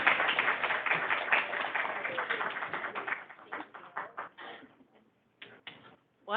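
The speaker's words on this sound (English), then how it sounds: "please give Carrie a big round of applause as she comes up here" An audience claps steadily for a speaker walking up to the stage at an abilities awareness event, the dense applause fading into scattered claps before a voice begins.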